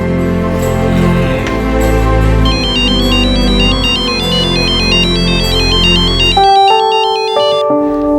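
A mobile phone ringtone plays loud and steady for about eight seconds in a Hindi crime drama scene, a repeating electronic melody over a musical bed, then continuing alone after the music drops out.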